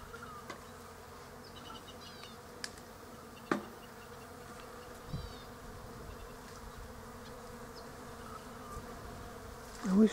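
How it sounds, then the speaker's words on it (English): Bees buzz steadily all around in a quiet almond orchard in blossom, a soft continuous hum with occasional closer insects passing by. "Just listen to all the bees."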